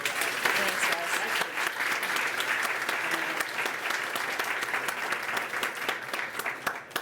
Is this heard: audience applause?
yes